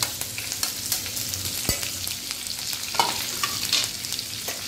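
Chopped garlic cloves, curry leaves and green chili frying in hot oil for kairi pithla, with a steady close sizzle, scattered crackles and a few stirring clinks, no voices.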